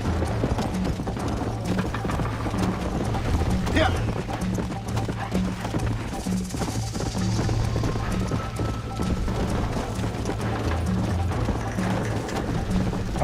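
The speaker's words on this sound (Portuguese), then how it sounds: "Vai, cavalo!" Horse hooves clip-clopping at a steady gallop in the Red Dead Redemption video game, a loud continuous rhythm over a low engine-like drone, with someone talking over it.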